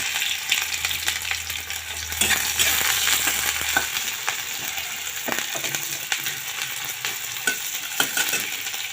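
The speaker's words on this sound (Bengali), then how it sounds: "তেলে পেঁয়াজটা দিয়ে দিলাম লঙ্কা কুচিটা দিয়ে দিলাম এবার পেঁয়াজটা লাল লাল করে ভেজে নেবেন" Sliced onion and chopped green chilli frying in hot oil, a loud continuous sizzle with scattered crackles and metallic scraping of a spatula stirring in the pan.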